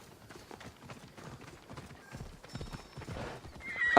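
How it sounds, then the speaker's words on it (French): Horse from the Assassin's Creed Odyssey video game, hooves clip-clopping at a steady pace with a loud neigh near the end, moderately close amid game ambience. "Je rappelle le cheval."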